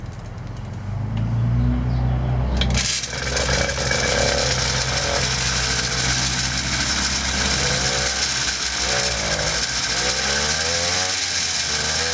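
A small engine fitted to a Schwinn Meridian adult trike pulls to a start after a few seconds of cranking, then runs steadily at a loud, close, even idle with a faint rising rev near the end.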